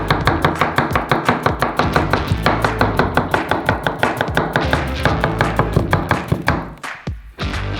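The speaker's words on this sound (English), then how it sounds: "We cut each cucumber lengthwise and then into semicircles." Rapid, steady knife chops on a cutting board as cucumbers are sliced lengthwise and then into semicircles, a busy run of close, crisp strikes that slows and breaks off near the end.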